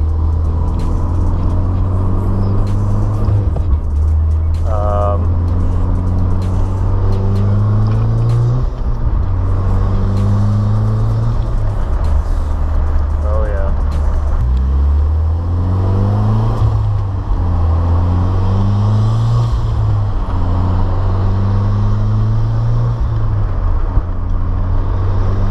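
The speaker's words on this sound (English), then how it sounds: "Driving the car back around" A Mitsubishi Evo X, freshly repaired after a leaking dump pipe and lean running, driven steadily with a loud, close engine drone that rises and falls through repeated rev swells and gear changes, no voices.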